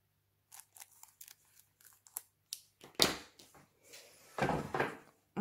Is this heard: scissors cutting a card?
yes